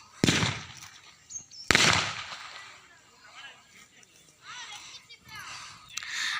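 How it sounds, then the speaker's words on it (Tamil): Firecrackers set off by youths after temple worship crack in two sharp, loud bursts early on, followed by fainter distant pops and crackles against outdoor ambience. "தூரத்தில் பசங்க சாமியெல்லாம் கும்பிட்டு பட்டாசு வெடிச்சிட்டு இருக்காங்க"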